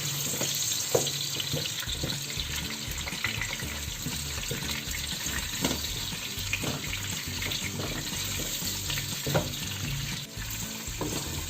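Coarsely chopped onions sizzle and fry steadily in oil in a pan for potato kofta, a dense continuous crackle with occasional louder pops and some stirring, with no talking.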